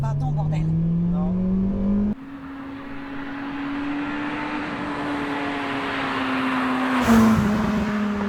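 A Honda Civic Type R EP3 with its VTEC engine revs hard, a steady rising engine tone holding near and loud for several seconds, with people talking over it at the start.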